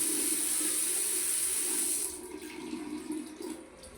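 Running shower water hisses loudly for about two seconds, then drops to a softer, uneven splashing as the flow is interrupted.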